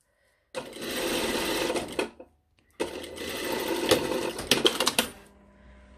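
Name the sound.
sewing machine stitching a seam 8 mm from the edge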